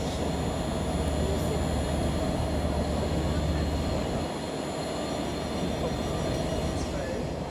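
An Avanti West Coast train at Crewe station, a loud, continuous rumble and hum of an 11-coach train close by on the platform, steady throughout.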